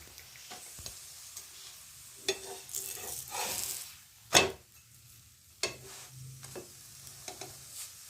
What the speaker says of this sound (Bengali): দুই দিকে এইভাবে চেপে চেপে ভেজে নিতে হবে